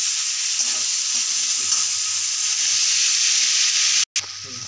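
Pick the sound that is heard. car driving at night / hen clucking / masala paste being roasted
masala paste being roasted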